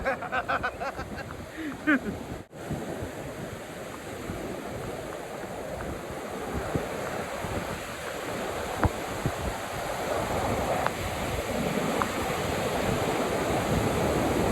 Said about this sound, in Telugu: అలలు చాలా పెద్ద పెద్ద అలలు, చాలా ఫోర్స్ఫుల్గా వస్తున్నాయి.